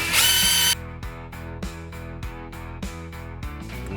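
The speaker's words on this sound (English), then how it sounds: "So now we can go ahead, tighten those screws up." A power drill whines loudly in a short burst while screws are tightened on the recoil of a Perla Barb 70cc chainsaw, followed by a run of regular clicking ratchet-like taps, with no talking.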